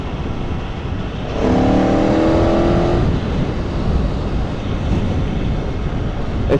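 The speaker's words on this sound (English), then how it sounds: "that's just revving into the mid-range" A 2018 Aprilia Tuono V4 1100 Factory motorcycle accelerating into the mid-range, its engine note rising in pitch for a couple of seconds beneath heavy wind rush while riding at speed.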